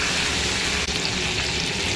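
Chicken and masala fry in hot oil for a catering-style chicken roast, a loud, dense, continuous sizzle close up with no talking.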